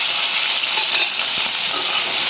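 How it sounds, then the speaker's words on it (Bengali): Cashews frying in a little hot oil in a kadai make a steady, close sizzle that runs continuously without pause. "এগুলো হালকা একটু ভাজা হবে।"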